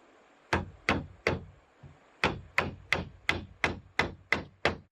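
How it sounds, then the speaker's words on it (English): The flat steel spine of a machete hammers a nail into wood at a forest log cabin build, giving three sharp knocks, a pause, then a steady run of seven more close, crisp blows. "the flat spine of the machete delivers enough blunt force to drive a nail home"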